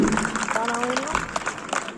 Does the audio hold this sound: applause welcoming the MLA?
yes